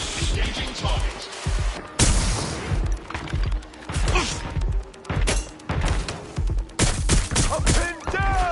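Bursts of rapid automatic gunfire and thudding impacts in the game Watch Dogs Legion, loud and near, coming in repeated volleys with short gaps between them.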